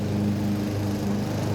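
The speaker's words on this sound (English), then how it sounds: "Lawnmowers. It's the sound of Ohio." Lawn mower engines drone steadily in the background outdoors in Ohio, a continuous low hum with no pauses and no talking.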